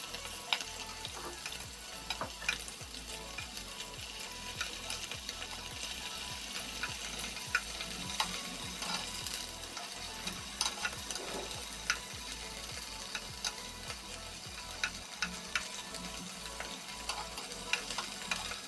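Paneer frying in a covered pan, giving a steady, crackling sizzle with scattered small pops, close and fairly quiet, without any talking.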